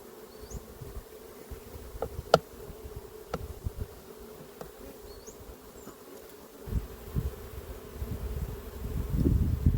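Honeybees buzz faintly around a hive with cross-comb being cut, a low continuous drone with a few passing insects and occasional soft clicks and rustles, growing slightly louder toward the end.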